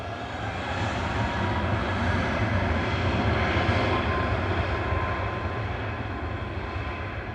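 A TUI airliner operated by Smart departs Manchester Airport for Girona, its steady, broad engine roar fairly close and sustained, swelling slightly mid-way, with no voices.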